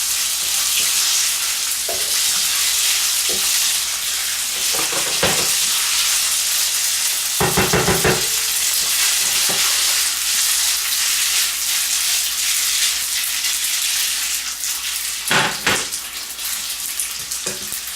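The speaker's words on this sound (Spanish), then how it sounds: "Y ahora los espaguetis. Removemos bien." Spaghetti being stirred through goulash in a sizzling pan, a steady broadband frying hiss with scattered utensil scrapes and clatter bursts, loud and close, no talking.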